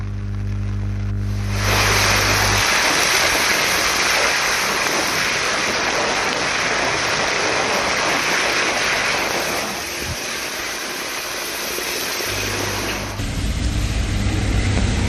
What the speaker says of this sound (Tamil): தொடர்ந்து இன்று காலையிலும் மழை நீடித்தது